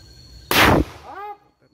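One loud, close gunshot cracks sharply and decays quickly, followed by a brief voice in an otherwise quiet outdoor setting; the shot misses its target.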